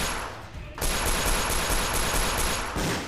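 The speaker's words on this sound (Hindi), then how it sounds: "खचाखच भरे रेस्तरां में चली गोलियां" Rapid bursts of gunfire crackle through a crowded restaurant during a police encounter in Delhi, a dense, loud volley that erupts after a brief pause and continues in quick, harsh repeated reports.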